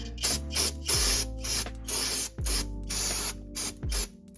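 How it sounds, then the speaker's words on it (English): Repeated short bursts of hissing aerosol brake cleaner spray, about seven pulses of varying length, close and loud with mechanical clicks between, cleaning brake fluid residue on a BMW E39 brake line. "Now all I'm gonna do is spray some good old brake cleaner"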